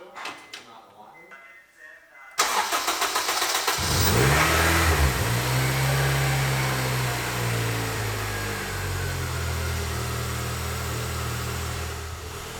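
A K20A2 car engine, newly installed, cranks and catches after a quiet opening, then revs hard a few times and settles into a loud, steady rumbling idle close by.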